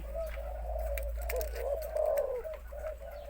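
A spotted dove calls from a hanging, mesh-covered cage, giving a close, repeated series of rhythmic coos over a steady low background hum.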